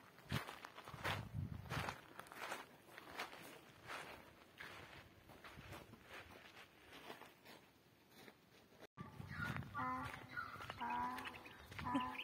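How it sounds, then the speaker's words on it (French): Footsteps crunch nearby in a canyon in Morocco, then a donkey brays at the end, harsh and nasal, from a short distance. "On entend un âne, les oiseaux, le bruit de l'eau."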